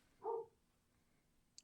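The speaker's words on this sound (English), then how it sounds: "a ceaselessly barking dog" A single short, faint dog bark heard at a distance, followed by quiet and a small click.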